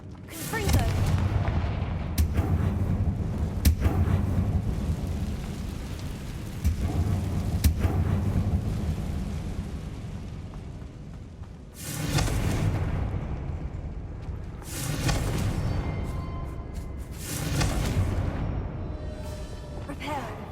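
Fire-blast spell explosions from Hogwarts Legacy: a rumbling, booming stretch of blasts, then several separate heavy bursts with crackling tails, loud and close, with voices speaking over parts of it.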